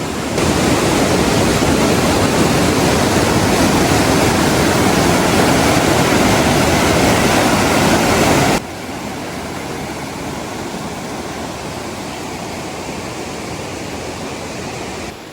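Rushing water of the Kanyau river at a rapids in a forest roars as a loud, steady broadband wash, close and continuous, dropping to a softer level partway through with no talk.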